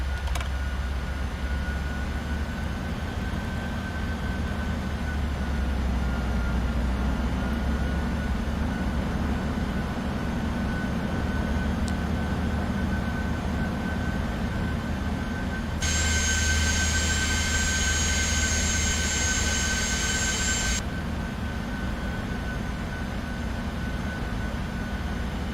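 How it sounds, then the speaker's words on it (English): A steady, loud roar of a Boeing 747-400 in the Prepar3D flight simulator fills the whole stretch, with an added tonal whine and buzz for several seconds midway as the landing gear and flaps extend. "Gear down, flaps 20."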